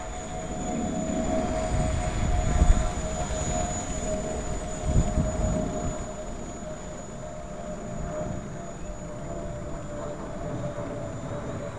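A Gaui 330X RC helicopter flies outdoors in 15 to 17 mph wind, its steady high rotor and motor whine held under broadband wind buffeting, with gusty surges rising and falling.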